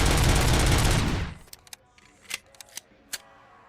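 Full-auto gunfire in the video game Robocop: Rogue City: a loud sustained roar of rapid shots for about a second that cuts off, followed by scattered mechanical clicks and clacks.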